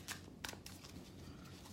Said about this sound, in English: I'm just going to do a little bit more shuffling.